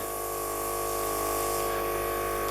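A cake decorating airbrush sprays with its trigger pulled all the way back. It gives a continuous, steady, close hiss with an even, high-pitched whine and no pauses.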